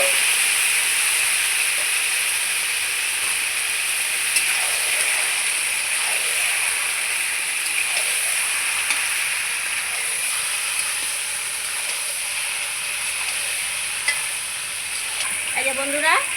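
Mutton frying in hot oil with black cardamom, green cardamom, cinnamon and bay leaves, a steady close hiss and sizzle running throughout with occasional small clinks and scrapes, no talk.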